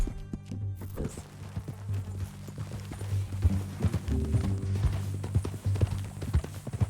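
Horse hooves clip-clop at a steady walking rhythm in Red Dead Redemption 2, close and fairly loud throughout, under a low game ambience.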